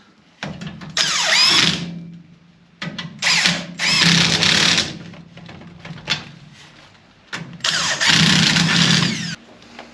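An impact wrench zips nuts off the rear end of a rally car during a full rear axle rebuild. Three loud, close bursts of hammering, whining rattle are separated by short pauses, with no talking.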